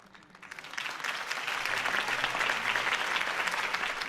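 Crowd applause follows a campaign speech in the city. It swells from quiet to a steady, loud wash of clapping that holds through to the end.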